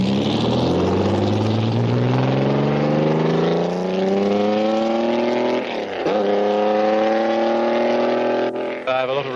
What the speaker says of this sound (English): John Watson test drives a 250F.